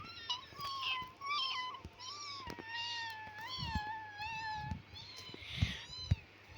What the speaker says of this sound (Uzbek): Pishakchaga o'xshab miyovlada.